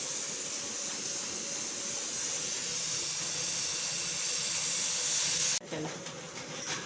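Oil poured into a hot, just-washed kadhai sets off a loud, continuous hiss that holds for several seconds, then cuts off abruptly and leaves a fainter, settling sizzle.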